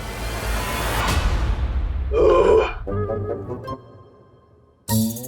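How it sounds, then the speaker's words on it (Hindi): A deep, grunting burp rises briefly and loudly after a whooshing sweep in a children's fantasy TV show, followed by short musical stings and a sudden loud hit at the end. "डकारी तो दी थी"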